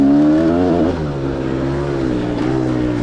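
A Gas Gas 300 dirt bike engine revving on the throttle along a trail, a loud close two-stroke note rising in pitch, then easing back to a steadier drone.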